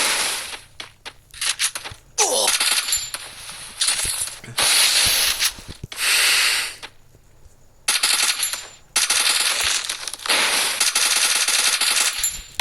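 Loud bursts of gunfire fill a Free Fire match, where an SVD sniper rifle is in play. The shots come in rapid volleys and single cracks, separated by brief quiet gaps.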